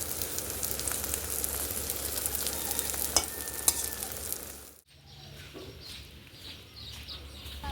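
Vegetable bhaji frying and being stirred in a pan, a steady soft sizzle with occasional scraping clicks, then the sound drops away briefly before a quieter sizzle resumes.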